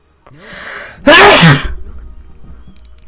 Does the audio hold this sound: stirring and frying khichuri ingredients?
no